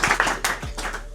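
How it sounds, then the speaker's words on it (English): Applause from an event audience, a short burst of close, sharp hand claps that overlap into a brief patter. "Let's give him a round of applause."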